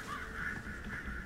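Ravens caw steadily in the Alan Wake video game near a run-down cabin, a harsh sustained call that holds at moderate loudness against faint background ambience.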